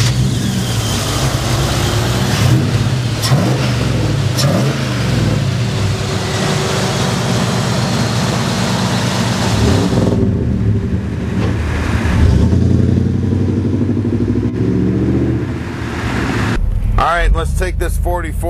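A 1940 Ford pickup restomod's engine runs loud and close, with a steady rumble and rising revs as it drives, road and wind noise underneath and a voice talking near the end.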